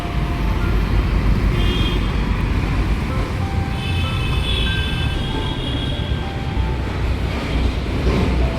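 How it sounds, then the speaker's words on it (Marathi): Steady busy ambience at Chitroli Square metro station in Nagpur, with a continuous rumble of road traffic and passing vehicles, plus faint scattered tones and distant chatter, with no close voice. "मेट्रो स्टेशन आहे."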